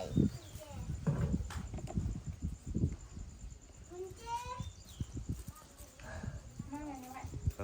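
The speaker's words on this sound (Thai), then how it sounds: "โอ้ม้านี่ก็ดีเนาะ ม้าไผอันนี้" A horse's hooves clip-clop in an uneven series of close knocks, mixed in with people talking nearby and occasional louder thuds.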